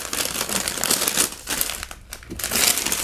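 Packing paper crumples and crinkles up close while a replica Graflex double-reveal lightsaber is unboxed: a steady, dense rustle with a few louder bursts and no talking.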